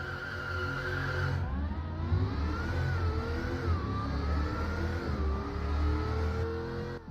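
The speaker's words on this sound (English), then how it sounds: "The sound of the V8 that this thing has is extremely nice and very fun to listen to" A Koenigsegg CCX V8 sports car engine revs steadily in the game Driving Empire, pitch rising and falling through gear changes, loud and continuous with no talking.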